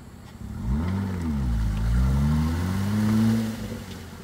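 A Jeep engine revs in four-wheel drive while rocking through offroad mud, rising and falling through several loud, close surges of throttle as the vehicle strains back and forth.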